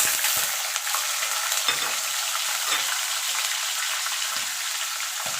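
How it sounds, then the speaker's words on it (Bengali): Soaked raw chickpeas fry in a pan over very low gas, a loud, continuous close sizzle with faint stirring clicks, no voices. "আমি এখানে ছোলাটা একটুখানি ভেজে দিচ্ছি"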